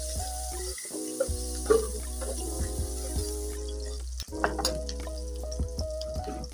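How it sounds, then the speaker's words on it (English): Onion frying in oil in a pan for a samosa and spring roll filling, a constant sizzle with spoon clinks and stirring knocks over a low steady hum, close, no talk. "So I'm adding my onion. Allow it to get dry a little."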